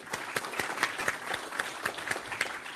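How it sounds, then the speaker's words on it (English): Conference attendees at a New York Fed innovation event give a round of applause for the speakers, a sparse, quiet patter of separate claps with a few sharper individual hits standing out at an even pace. "a round of applause for our speakers"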